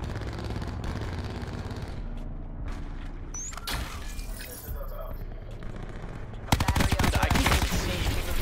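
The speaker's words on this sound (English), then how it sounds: "This poor dude shooting bodies." Gunfire rings out in an online shooter video game, with rapid bursts and scattered single shots over game noise, and a dense louder stretch near the end while players talk over it.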